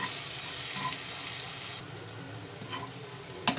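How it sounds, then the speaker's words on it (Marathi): A steady frying hiss from a pan of chopped coriander, salt and Byadgi chili powder being sautéed for goda masala aamti, with soft stirring scrapes and a sharp clink near the end, no talking. "थोडीशी बारीक चिरलेली कोथिंबीर घालूया आपण मीठ घालूया चवीपुरतं बेडगी मिरचीची पूड घालूया सर्व छानपैकी आता हे परतून घेऊया"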